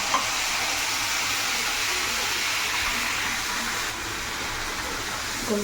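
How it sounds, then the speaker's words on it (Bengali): Ground cumin, turmeric, coriander and chili powder sizzle and fry in hot oil for ghugni, a steady close crackling hiss that runs unbroken throughout with occasional stirring and no talk. "ভালো করে কষাবো তেল ছেড়ে এলে তখন মটর আর আলুটা দিয়ে দেব"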